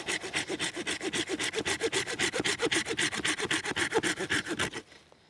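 Hand saw cutting through a resin-rich piece of fatwood, with about two dozen fast, even rasping strokes in a steady back-and-forth rhythm, loud and close, stopping abruptly near the end.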